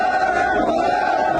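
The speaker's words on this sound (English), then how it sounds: "Old man leave, they chant." A protest crowd chants in unison, a loud massed roar of voices with a steady sung pitch held across the short stretch.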